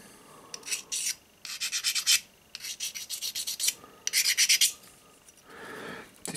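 Precision angle blocks being deburred with a file, giving repeated short rasping strokes in bursts of four to six, fairly close and steady, with brief pauses between sets and no talking.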